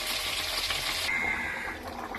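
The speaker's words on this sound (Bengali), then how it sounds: "আর মশলা কষা হয়ে গেছে, এবার জল ঢেলে দেবো।" Water goes into spice paste frying in a pan for a bata fish curry. A close, steady sizzle changes partway through to a softer hiss as the liquid hits the hot masala.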